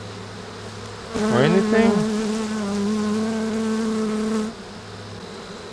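Honey bees buzz loudly at an open hive crowded with swarm cells, a close, dense steady hum with individual bees whining past the ear, rising sharply and then cutting off, while a person speaks briefly.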